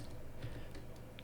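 Quiet typing on a computer keyboard, soft irregular key taps over a low background hum.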